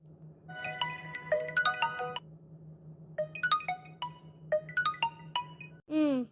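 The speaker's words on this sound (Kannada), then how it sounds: "ರಾಹುಲ್ ಫೋನ್ ಮಾಡ್ಯ, ನಾನು ಕೊಡಿಲ್, ಫೋನ್ ಕೊಡಿಲ್." A mobile phone ringtone plays a bright, repeating electronic melody over a low steady hum, three phrases with short gaps, ending in a brief warbling tone.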